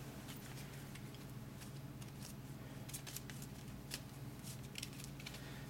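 Soft rapid riffling and flicking of piles of cards from the board game Pandemic, quiet and close, repeating in short bursts with no talking.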